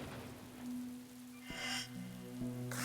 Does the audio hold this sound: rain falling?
yes